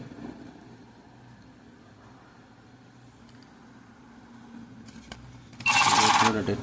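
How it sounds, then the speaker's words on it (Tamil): The small built-in printer on a digital bomb colorimeter starts up near the end with a loud, buzzing mechanical whir lasting about a second, following a quieter stretch of room noise and low hum. "இங்கே பிரிண்டர் எனேபிள் ஆகி பிரிண்ட் ஆகிட்டுருக்கு."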